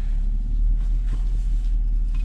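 Steady low engine rumble from a Chevrolet Caprice police car driven on patrol in a video game, a constant road drone with no voices.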